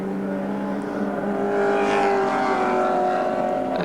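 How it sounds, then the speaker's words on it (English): Australian touring race cars at Wanneroo in 1987 roar past with loud, sustained engine notes, the pitch rising as they accelerate over a hill, close and continuous. "the cars go over the top of the hill, work their way down to the right-hander at Park Royal"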